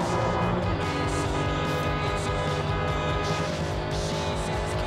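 A race car roars at full speed over 300 in Forza Horizon 5, its engine droning loud and steady throughout with no break.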